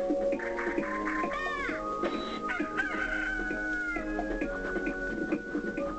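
Game chickens in Billy Hatcher and the Giant Egg, a rooster crowing repeatedly over steady clucking and squawks, loud and continuous against a game soundtrack with no talk.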